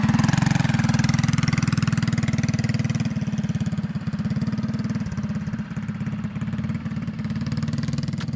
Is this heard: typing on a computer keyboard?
no